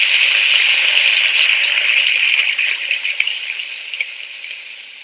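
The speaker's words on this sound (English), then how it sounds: "I've added the sound of bacon frying." Bacon fries in a pan with a dense, hissing sizzle that sounds like steady rain, loud at first and then thinning into scattered crackles and pops.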